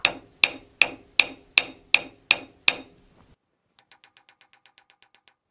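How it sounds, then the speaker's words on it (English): Repeated sharp taps on sandpaper held against a firearm to work out a small scratch, eight evenly spaced knocks followed after a pause by a quicker run of lighter, crisp ticks, close and with no talking. "you can actually tap out this scratch using this piece of sandpaper"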